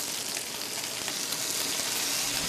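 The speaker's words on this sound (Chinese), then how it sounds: "热油，中火慢煎，直至山坑鱼两面变得焦黄，" Small mountain stream fish sizzle in hot oil in a pan over medium heat, a dense, steady crackling hiss heard up close with no talking.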